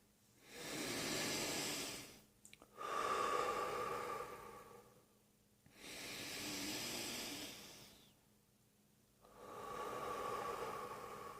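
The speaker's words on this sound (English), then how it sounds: "pay attention to your breath for about 5 minutes of doing this neutral breathing" Slow, neutral breathing during meditation, with long, airy inhales and exhales alternating at an unhurried pace, soft and close, with no voices.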